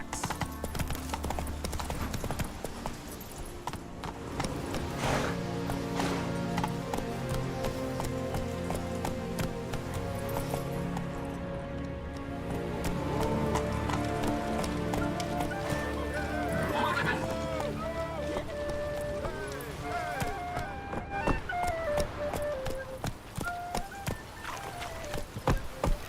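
Horse hooves gallop in the video game Witcher 3, a fast steady clip-clop that runs throughout, mixed with game music and ambience and occasional faint voice.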